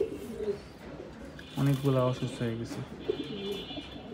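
Pigeons coo softly in a loft, the throaty calls rising and falling in short repeated bursts, with other birds and a voice murmuring in the background.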